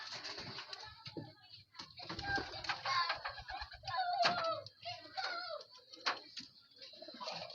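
Racing pigeons from champion bloodlines, red bar among them, cooing and fluttering inside a large loft, a steady chorus of soft coos and wing sounds close by with no talking.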